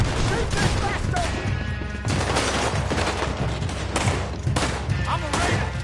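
Rapid, loud gunfire in a Red Dead Redemption 2 shootout, repeated bursts of shots with crashes, mixed with shouting voices throughout.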